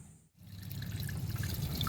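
Water trickles and drips steadily through the drainage channels of a Toyota Wigo, a soft continuous flow that swells after a brief pause near the start, with no voices.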